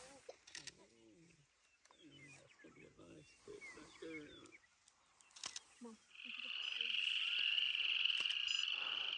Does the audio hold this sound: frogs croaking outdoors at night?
yes